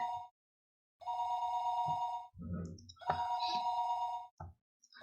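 A telephone rings in a video game, two long electronic ring bursts separated by brief gaps, clear and close with a few small clicks between them.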